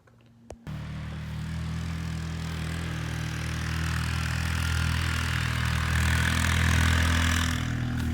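A four-wheeler engine starts and settles into a steady, loud idle outdoors in a field, its low rumble holding evenly throughout with no talking.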